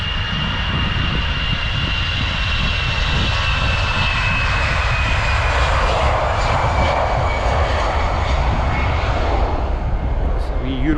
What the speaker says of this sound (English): It's a wee Eurowings flight off somewhere.